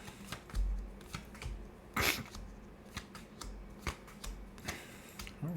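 Tarot cards being shuffled for a Celtic cross spread: soft, papery riffles and taps that come in short, irregular bursts at close range, with no voices.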